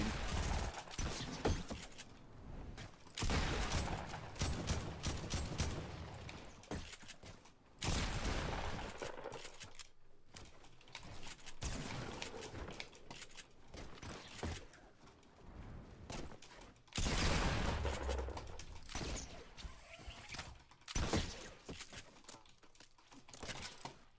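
Gunfire aimed at the player in a Fortnite match crackles in several loud, dense volleys of rapid shots separated by short quiet gaps, with no voices over it.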